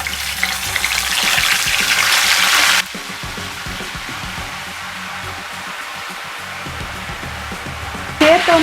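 Loud hissing sizzle of salt water hitting hot oil while frying nendran banana chips, dense and steady for a few seconds, then dropping to a softer crackle with faint clatter.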